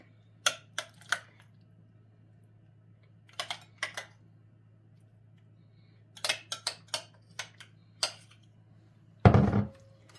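Beetroot salad being tossed and mixed with dressing in a bowl, a few clusters of sharp utensil clicks and taps against the bowl separated by quiet pauses, ending in a short louder scrape.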